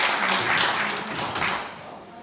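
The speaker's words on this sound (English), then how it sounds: "Let's give you a big round of applause." Applause from the audience at a College Point civic and taxpayers association meeting, a short burst of steady clapping from a room of people that fades off after about two seconds.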